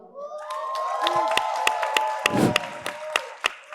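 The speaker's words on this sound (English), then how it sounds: "With a resounding round of applause, please give it up for Fura." Audience at a youth-leaders plenary of a family planning conference cheers and whoops amid scattered claps, the crowd noise rising and falling over a few seconds with sharp individual claps standing out.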